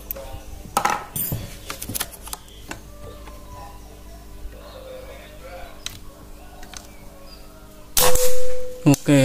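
An air gun pellet strikes a metal target at 27 meters with a sharp, ringing clang, preceded by several smaller clicks and knocks, and low outdoor background noise.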